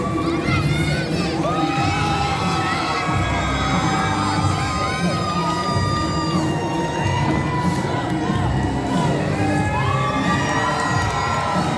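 A wrestling crowd cheers, shouts and whoops continuously at a pro wrestling show as fans react to a heavyweight champion, the roar loud and dense throughout.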